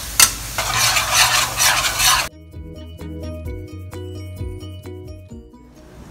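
Garlic frying in oil in a pan for pork noodle soup: a loud broadband sizzle for about two seconds, then it drops away to quieter clinks and stirring knocks of utensils against the pan.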